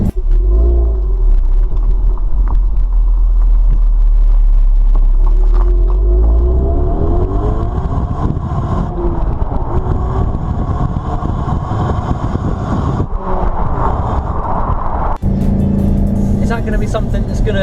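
A Ford Mustang EcoBoost engine drones and rumbles steadily while the car is driven, with the engine note rising at points. Someone talks over the engine throughout.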